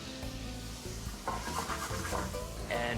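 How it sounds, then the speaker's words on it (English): A pan of golden-browned seafood and spinach sizzles as white wine is added, a close steady hiss with stirring scrapes that swells briefly near the end. "we add a little bit of spinach and deglaze it with white wine"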